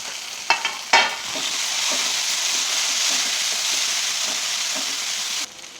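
Chopped tomatoes hit hot oil with sautéed onions, mustard seeds and cumin, a couple of sharp splats and clatters followed by a steady, close sizzle that cuts off abruptly near the end.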